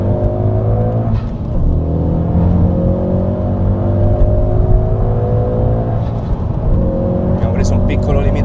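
A Ford Focus ST engine revs hard and steadily under acceleration, a loud continuous drone with rising harmonics throughout, heard from inside the car.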